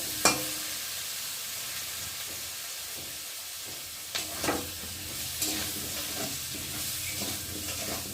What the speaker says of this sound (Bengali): আর এক চামচ দেবো ধনের গুঁড়ো দিয়ে ভালো করে আলুর সাথে মশলাটা ভালো করে কষিয়ে নেব।